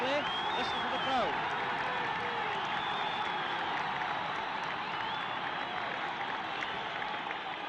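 Football crowd at a European night match between Liverpool and Hibs, a broad continuous roar of fans with applause, while a commentator's voice runs over it.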